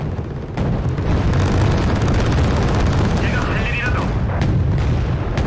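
Artillery fire and explosions rumble through a Wargame: Red Dragon battle, a continuous heavy booming barrage with scattered sharper blasts and a brief whistling streak, loud and close, under talk.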